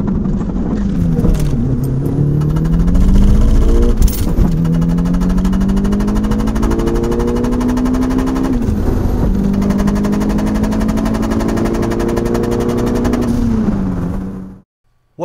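A car with a worn driveshaft drives along, its steady engine and road drone rising and falling with the revs as it accelerates. A few sharp thumps sound in the first seconds, loud and close, with no voices.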